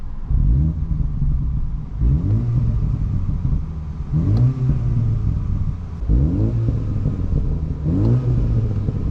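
A stock F56 Mini Cooper S in sport mode revs repeatedly, its exhaust rising and falling in roughly two-second bursts, loud and close with no talking.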